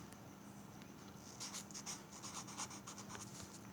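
Pen or marker scratching across paper while a table is drawn by hand, a soft continuous rub with brief stroke bursts, close and fairly quiet with no talking.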